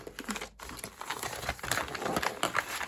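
Yellow wrapping paper crinkles and rustles continuously as a subscription stationery box is unwrapped, close and fairly loud, with irregular crackly bursts throughout.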